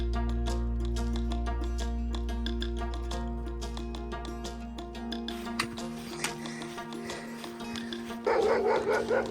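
Guard dogs bark in a shepherds' valley in the Middle East, a run of barks over a steady droning tonal background that swells louder near the end.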